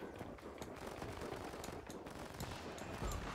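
A helicopter in the strategy video game Warpips lets loose rapid gunfire, a dense, quiet rattle of shots running steadily for a few seconds.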